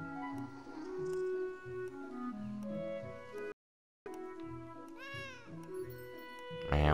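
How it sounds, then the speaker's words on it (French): Cat meowing in the video game Beyond Eyes, several plaintive meows over soft melodic game music, with a short gap midway. "Miaou."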